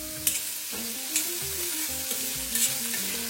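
Steamed beetroot is stirred in a pan for a South Indian lunch dish, with a low frying sizzle, a few scraping strokes of a spoon and a faint background hum.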